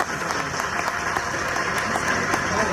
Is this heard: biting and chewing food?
no